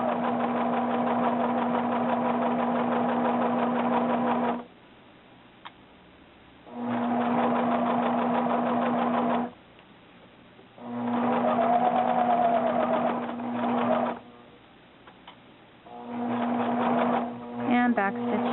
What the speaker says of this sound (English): Sewing our shoulder seam here